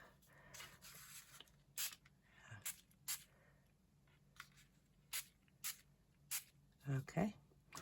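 Tea dye from a spray bottle misted onto a fabric sack in a series of short, sharp hissing bursts spread through the clip, with quiet handling noises between them.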